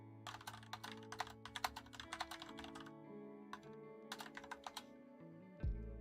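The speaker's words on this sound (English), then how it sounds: "You will be hearing the sound of my keyboard." A computer keyboard clatters in quick bursts of keystrokes, with short pauses between runs of fast typing, quiet and close, with no one talking.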